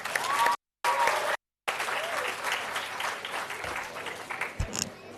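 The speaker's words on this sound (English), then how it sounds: "Let's have another round of applause." Audience at a model SAARC summit event at a university breaks into sustained, fairly close applause, briefly cut by two gaps of silence, with faint voices under the clapping and a single bump near the end.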